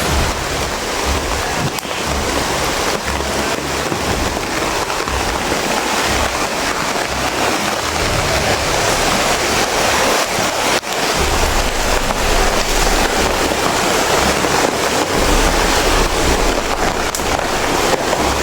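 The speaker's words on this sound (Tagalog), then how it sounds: "Ibang lakas ng ulan." Heavy rain pours down in a dense, continuous roar with gusty wind, loud and unbroken from start to finish.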